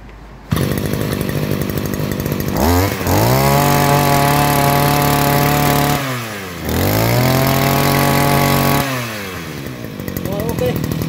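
Chainsaw engine running, a loud close two-stroke whine revved up and down in several bursts, with pitch sweeps as the throttle opens and brief dips back to a rough idle between runs.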